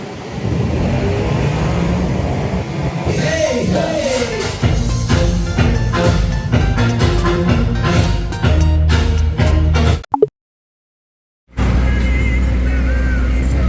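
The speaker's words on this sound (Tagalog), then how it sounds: "Kita nyo naman sobrang traffic." Heavy road traffic rumbles with engines revving and vehicles passing close by, then drops to a short silence before the traffic noise resumes.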